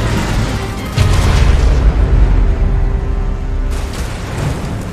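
Nuclear weapon blast destroying a base in the Cabals video game: a loud, deep rumbling boom that swells suddenly, sustains with roaring low-end energy and slowly decays.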